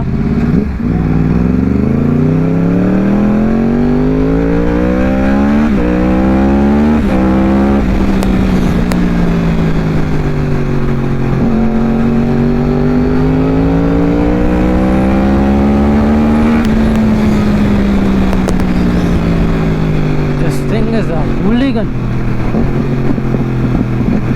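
A motorcycle engine runs steadily while riding on a Telugu motovlog, with a loud continuous drone whose pitch rises and falls through throttle changes and gear shifts, close and unbroken throughout.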